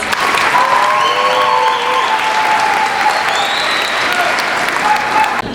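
High school graduation crowd giving a round of applause to a marching band: loud, dense, continuous clapping from a large audience with scattered cheers and whistles throughout.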